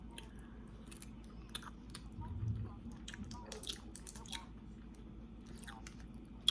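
Someone chews and smacks while eating shrimp from a spicy seafood boil, with soft wet bites and lip smacks up close, scattered irregularly over a low background hum.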